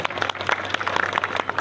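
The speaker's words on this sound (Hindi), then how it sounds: "इनका भी जोरदार तालियों के साथ स्वागत करें।" Crowd applause at a village welcome ceremony in India, a busy patter of many hands clapping at moderate loudness, steady throughout with a low hum beneath and no talk.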